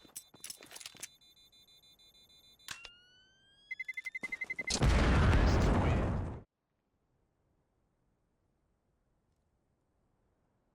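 Counter-Strike: Global Offensive gunfire in a competitive match: a few sharp isolated shots, then a rapid automatic burst followed by a loud roaring blast that cuts off into silence.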